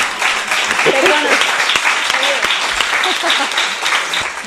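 Audience applause at the close of an international arbitration court debate panel, steady and fairly loud throughout, with voices talking over it.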